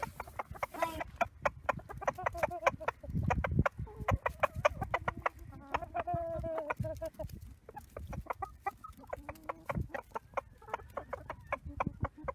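Chickens cluck repeatedly and close up while pecking at raw squash in winter, with steady busy clucks and sharp pecking taps throughout.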